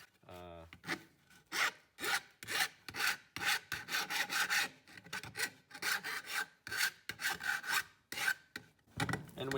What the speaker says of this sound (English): And as I'm filing, I'm sort of doing this motion.